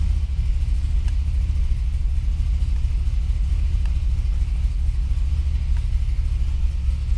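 A Chevrolet Corvette C6 Z06 engine, just started after winter storage, holds a steady, close, deep idle rumble throughout with no talking.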